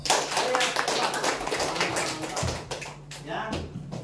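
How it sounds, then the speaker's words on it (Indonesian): A group applauds at a formal meeting, with brisk clapping of many hands that is loud at first, then thins and breaks up, while voices talk over it throughout. "Oke, kita kasih aplaus."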